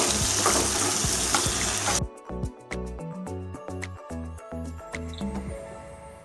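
Mutton frying with spice paste for Bengali kasha mangsho, a loud hot sizzle at first, then a scraping spoon stirring the meat in rhythmic strokes with softer sizzling beneath.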